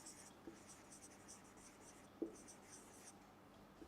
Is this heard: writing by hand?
yes